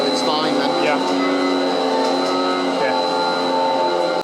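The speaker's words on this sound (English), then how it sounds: "The only downside is the vacuum pump could have done with being somewhere else." A milking parlour vacuum pump on a farm with a 24-unit parlour runs as a steady, loud mechanical drone with whining tones, continuous throughout with a voice faintly mixed in.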